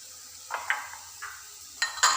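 Tomatoes are tossed into a pan for an egg roast masala and stirred, giving a soft background sizzle with a few sharp utensil scrapes and clinks against the pan.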